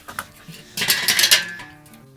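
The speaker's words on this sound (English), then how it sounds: "it's time to open up the grill and give it a flip" A BBQ grill lid is opened and a smoked strip loin roast is flipped, with a few sharp metallic clanks and scrapes of tongs and grate up close, then quiet.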